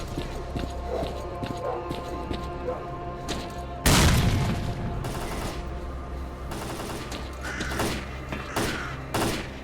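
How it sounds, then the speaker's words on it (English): A grenade goes off in the PC shooter STALKER Clear Sky, one loud close blast that cuts in suddenly over a busy background of scattered gunfire and clatter, then a long rumbling tail with more shots after. "here's a grenade to blow you apart"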